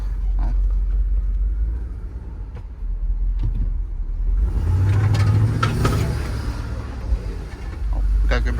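A 2009 Chevy Suburban drives while its four-wheel drive is being tested, a low engine and road rumble swelling midway, with people speaking briefly inside the cabin.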